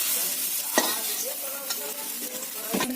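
Fried brinjal sizzles in a pan of oil while pieces are stirred and lifted out, with a steady hiss broken by a few sharp scraping clicks from the utensil against the pan.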